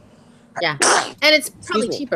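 A single sharp, loud sneeze bursts out in the middle of a casual conversation, with people talking just before and after it.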